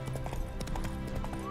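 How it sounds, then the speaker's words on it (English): A horse in The Witcher 3 video game, spooked by a ghost, with rhythmic clip-clop hoofbeats and a short whinny, fairly quiet under faint game ambience. "Spooking my horse."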